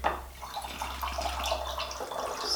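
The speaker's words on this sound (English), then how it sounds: "Then we're going to add 3/4 of a cup of distilled water." Distilled water poured into a jar for a homemade lavender linen spray, a steady splashing trickle close by, continuous over a low hum with no talking.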